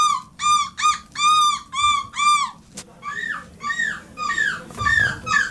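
Contestants at a European seagull-imitation championship imitate gull calls: a run of rhythmic, nasal yelping cries, then a sharp click and a second series of wailing calls, loud and close.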